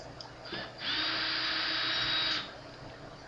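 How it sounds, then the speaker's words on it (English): A small electric screwdriver backs screws out of the cover of a Kenwood TM-721A radio. It gives one steady, high whine of about a second and a half, close and alone over a faint hum. "we're going to start by removing two screws from one side of the radio that hold the cover in place"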